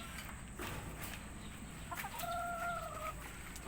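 Pet hens clucking softly at a distance, with a short higher call near the end over a low, noisy farmyard background.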